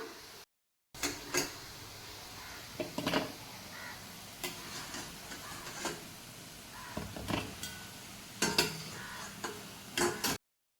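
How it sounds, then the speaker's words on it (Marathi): Rava gulab jamun frying in hot oil until brown, a steady quiet sizzle with scattered sharp clicks and taps of a utensil against the pan, no voices. "आता त्यांना आपण थोडा ब्राऊन कलर येईपर्यंत तळून घेऊया"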